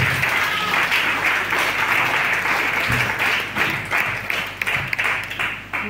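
A church congregation applauding strongly, dense sustained clapping that fills the room before thinning out into scattered claps toward the end.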